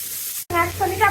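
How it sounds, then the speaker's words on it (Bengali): Sliced onion stalks frying in hot oil with whole cumin and other whole spices, a steady close sizzle that cuts out for an instant and resumes, with someone talking over it. "পেঁয়াজ কলিটা ভাজা হয়ে গেছে।"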